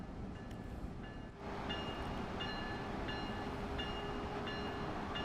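A Boston Sprinter passenger train running at speed in Train Sim World 2, a steady rail rumble with a rhythmic clatter and a faint tonal whine, moderately quiet and without talk.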